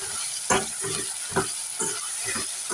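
Salted onions fry in a pan with a constant close sizzle, broken by several louder scraping stirs at irregular intervals.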